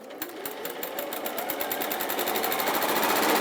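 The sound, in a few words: 680 sewing machine stitching fabric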